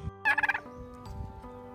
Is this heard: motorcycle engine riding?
no